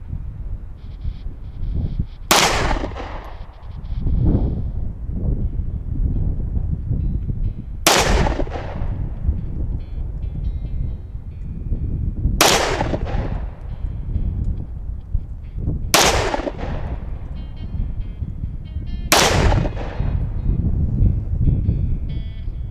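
Pistol shots fired outdoors, comparing 5.7 NATO and 7.62x25 rounds: five loud, sharp reports spaced a few seconds apart, each with a short rolling echo over steady wind-like background noise.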